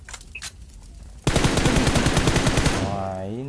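Gunfire in PUBG: after a few faint clicks, a close, loud burst of rapid automatic shots rattles on for about two seconds, then tails off into a ringing echo.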